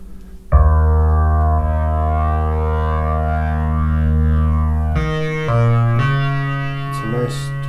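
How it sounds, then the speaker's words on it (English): A 1010music Synthbox synthesizer plays sustained tones through a distortion effect, first a long buzzing held note, then a few note changes with gritty, harmonically rich drive, loud and alone. "we'll introduce some distortion over here"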